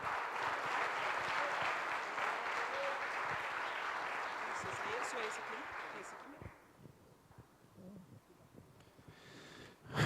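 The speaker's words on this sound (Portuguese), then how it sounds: "Dá uma salva de palmas com glória a Deus" A church congregation claps steadily for several seconds after a prayer, the applause fading out near the end as scattered voices and small sounds remain.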